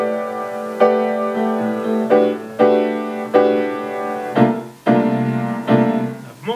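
Piano playing sus4 chords, a series of struck, ringing chords at a steady walking pace, each decaying before the next, played alone with no speech.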